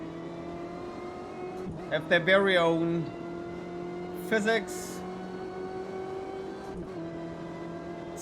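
Race car engines of a Porsche, a Corvette and a BMW in the racing game Automobilista 2 at Imola, a steady engine drone with rising revs and a brief sharper burst, under someone talking.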